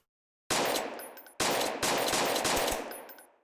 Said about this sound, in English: this game does have something I've been wanting in ERLC, and that's realistic gunshots